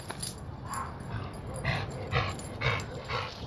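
An excited dog gives a run of short, close barks and yips at a quick irregular pace, with scrabbling movement between them. It sounds indoors during a live stream, and no one speaks.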